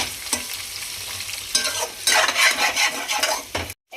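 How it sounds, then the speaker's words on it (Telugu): Eggs frying in a pan for homemade egg fried rice, with a loud, close, continuous sizzle and busy stirring and scraping throughout, cut off abruptly near the end; no one speaks. "ఎగ్స్ మంచిగా ఫ్రై అయిపోయినాయి"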